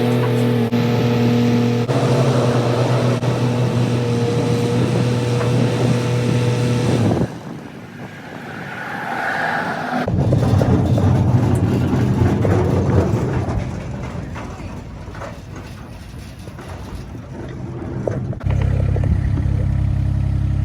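A GMC Denali pickup towing an equipment trailer drones steadily at speed with loud road and engine rumble, its tone shifting midway as it slows and picks up again.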